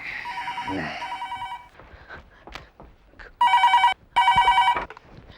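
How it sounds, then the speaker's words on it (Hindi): A telephone rings in two loud bursts of electronic trilling near the end, after a quieter tone and some rustling movement. "जस्सी 100 साल से तेरा फोन ट्राई कर रहा हूं"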